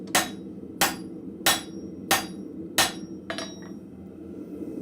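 A blacksmith hammers spring steel on its side at the forge with five sharp, evenly spaced ringing blows and a lighter sixth tap, each close and clear over quiet background hum.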